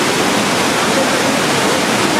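Malanzai waterfall in Kangpokpi, Manipur roars as a dense, steady rush of falling water, loud and close, filling the whole moment without a break.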